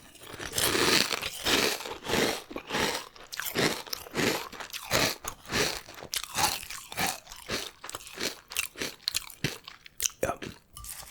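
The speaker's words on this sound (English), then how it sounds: "Very crispy and crunchy." Frosted Flakes cereal eaten close to the microphone, loud crisp crunching bites in a quick steady rhythm of chewing, with no talking.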